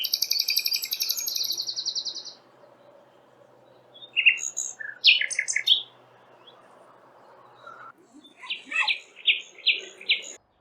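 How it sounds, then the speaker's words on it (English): A nightingale sings along a bird-filled path: a bright, rapid repeated phrase opens the clip, then varied whistles and trills follow after a pause, ending in a run of sharp repeated notes, fairly close and with no talking. "A nightingale."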